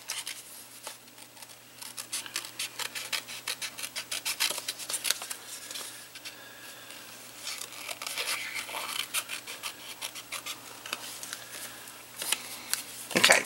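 Card paper is trimmed by hand in a quiet room, with a continuous run of close, soft snips, rubs and scratchy cutting strokes in an uneven rhythm.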